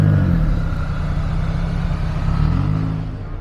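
A loud engine from what appears to be a Toyota at a car show in Las Vegas; a deep, steady rumble with heavy low-end throb, close and continuous for a few seconds with a slight swell midway.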